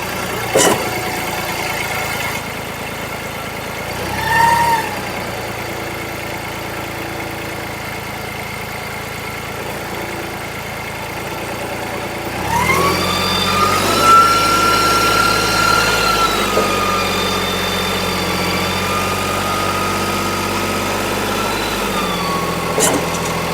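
An Iseki 213 crawler tractor engine runs steadily at idle, a low continuous drone that briefly revs around the middle and then settles into a louder, rougher idle, close by with no talking.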